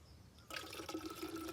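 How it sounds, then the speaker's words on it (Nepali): Water pours to mix with Red Bull, outdoors in Shivapuri forest: a short, steady splashing pour that starts abruptly after a brief quiet moment and runs close and moderately loud. "यो रेड बुललाई चाहिँ हल्का पानीमा मिसाउनु पर्ला"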